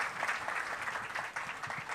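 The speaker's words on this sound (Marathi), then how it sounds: "वरदसाठी एकदा जोरदार टाळ्या झाल्या पाहिजेत." An audience claps loudly and steadily for a few seconds at a centenary concert of classical music, a dense and continuous wash of applause with no voices.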